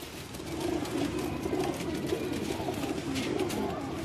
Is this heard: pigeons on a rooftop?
yes